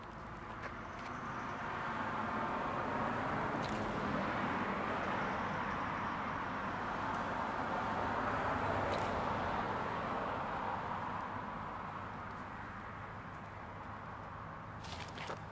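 Traffic in the far lane of a roadside street, with vehicles rolling by in two broad swells of tire and engine rush over a constant background hum, plus a few faint sharp clicks and no speech.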